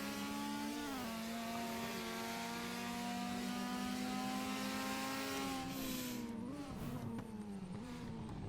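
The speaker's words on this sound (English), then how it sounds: "Here comes the skyline of Fando, as he should just streak past the RX-7" Race car engines in a sim racing game during an ATCC Masters round at Townsville, including a Skyline and an RX-7, whine steadily with rising and falling pitch as cars pass and shift, loud and continuous with no talk.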